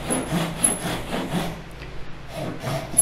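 A compact Ryoba Japanese pull saw cutting a wooden tenon, a run of quick rhythmic rasping strokes close up, pausing briefly partway before the sawing resumes for a few more strokes.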